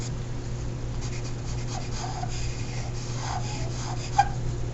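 Charcoal rubbed and blended across drawing paper makes a soft, steady scratchy hiss with faint strokes, set over a constant low electrical hum and no talking.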